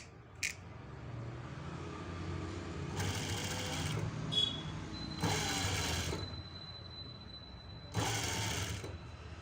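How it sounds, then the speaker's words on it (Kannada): A sewing machine stitches along a piping strip sewn onto fabric, running in several loud bursts of a couple of seconds each, separated by quieter pauses with faint handling sounds. "ಪೈಪಿಂಗ್ ಪೀಸ್ ಮೇಲೆ ಸ್ಟಿಚ್ ಹಾಕ್ಕೊತ ಬನ್ನಿ"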